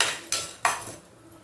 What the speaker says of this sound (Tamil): ஃபஸ்ட்டு உளுந்தை போட்டு வறுத்து எடுத்துப்போம்.